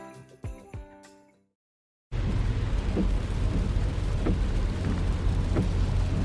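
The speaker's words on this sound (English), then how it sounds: "This is the sound of your ride home with Dad after he caught you vaping." A few faint plucked notes fade out into a brief silence, then steady rain drums on a car during a ride home, with a low engine rumble beneath and occasional soft thuds.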